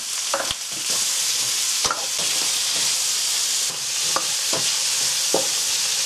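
Vegetables and pork strips sizzle steadily in a hot pan, with occasional clinks and scrapes as they are stirred and tossed.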